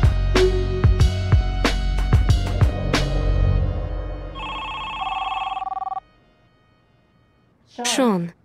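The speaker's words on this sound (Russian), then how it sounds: "тебе звонят." Telephone ringing in a room, a short electronic ring burst after earlier thuds and tones, with a voice briefly heard afterward.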